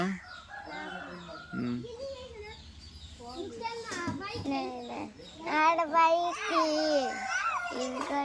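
Chickens cluck and squawk nearby in short rising calls, mixed with children's voices chattering in the background.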